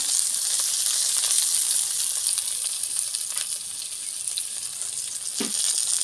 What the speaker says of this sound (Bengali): ঢ্যাঁড়সটা আমি সুন্দরভাবে ভেজে নিয়েছি।